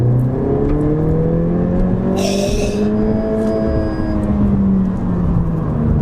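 A 2020 Honda Civic Si Coupe's 205-horsepower engine drones loudly and steadily, its pitch rising and falling slowly, with a brief hissing burst partway through.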